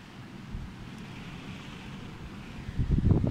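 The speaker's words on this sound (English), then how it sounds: "Wind's building up." Strong gusting wind from a Storm Ciara squall line roars against the microphone, holding at a steady rumble before surging louder and rougher in the final second as the squall arrives.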